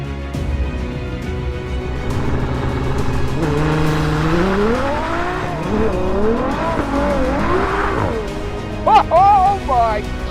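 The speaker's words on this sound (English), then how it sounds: "when you've been given the keys to a brand new Ferrari 812 GTS, well then I think that's a pretty good excuse to disturb the peace" A 2021 Ferrari 812 GTS V12 engine roars loudly and close, revving up in rising sweeps that climb and fall over several seconds, ending with sharp quick blips of the throttle.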